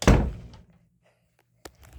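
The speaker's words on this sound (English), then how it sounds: "Let me close the door." A door swings shut with one loud, close thunk, then falls quiet. A small clatter follows near the end.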